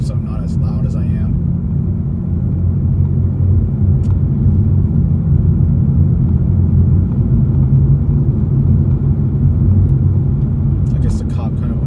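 A Toyota Supra cruises in normal mode with its exhaust valve closed, a low, steady engine and road rumble continuing for the whole stretch, with brief bursts of other noise at the start and end.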